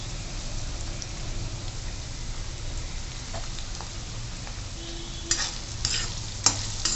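Cabbage, potato and turmeric sautéing in a pan for a quick cabbage bhaji, with a continuous close sizzle and scattered spatula scrapes and clacks toward the end.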